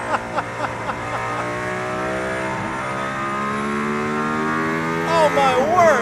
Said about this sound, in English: Okay, I can see now we're really driving.